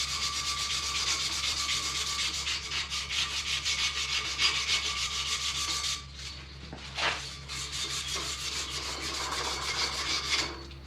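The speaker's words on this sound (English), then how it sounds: "Here I am preparing 3/4 inch copper for soldering into its new location and purpose." Steady abrasive rubbing as 3/4 inch copper pipe is cleaned before soldering, a close, continuous scratchy scrubbing with short pauses and changes in stroke near the middle.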